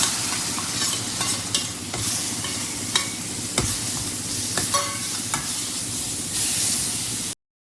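Tomatoes hit roasted pav bhaji masala with Kashmiri red chilli in a hot pan, sizzling steadily while a spatula scrapes and stirs in repeated strokes, loud and close, before the sound cuts off.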